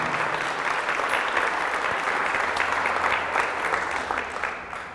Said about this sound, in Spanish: Fuertes aplausos a la palabra de nuestro Señor y Salvador Jesucristo